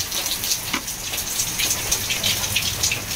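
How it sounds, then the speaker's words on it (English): Steady rain patters on a surface, with scattered louder drops ticking against a constant wash of falling water. "Today is very rainy."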